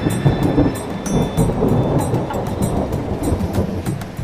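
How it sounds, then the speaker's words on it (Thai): Simulated thunderstorm in a museum exhibit: rumbling thunder rolls continuously with a steady wash of rain-like noise, loud and close, with no voices. "มีพายุสะโอ้ยฟ้าร้องเห็นไหม"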